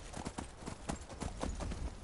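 Horse hooves clip-clop in a steady rhythmic gait during riding in a Witcher video game, the beats close and fairly loud, with faint game ambience beneath.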